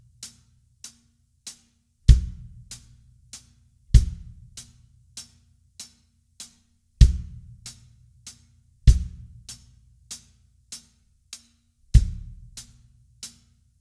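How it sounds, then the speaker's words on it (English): Kick drum and hi-hat played together in a simple beginner rock beat, steady evenly spaced hi-hat ticks with deep kick hits landing on the 1 and the and of 3, clean and close with no talking. "with the kick drum and the hi-hat together, it would sound like this"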